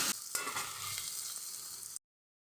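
Whole spices tempering in hot oil in a Bengali kitchen sizzle loudly and steadily for about two seconds, a bright continuous frying hiss with a small clatter near the start, then cutting off abruptly to silence.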